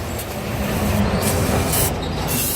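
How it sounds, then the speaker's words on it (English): Brake cleaner sprayed onto the front brake parts of a Toyota Avensis, a steady loud hiss lasting a couple of seconds with brief bursts of brighter spray noise, close to the listener. "give that a quick spray"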